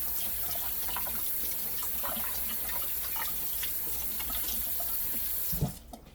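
Hot tap water runs steadily into a sink over a spatula during cake icing, a constant close splashing rush that cuts off sharply near the end.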